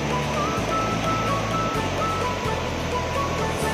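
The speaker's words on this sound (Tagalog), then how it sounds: "Grabe na laki ng alon guys" Big waves crash at Patar Beach in Pangasinan, a loud, continuous roar of surf with a low rumbling undertone throughout and no clear voices.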